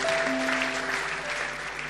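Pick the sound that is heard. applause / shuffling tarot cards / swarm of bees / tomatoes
applause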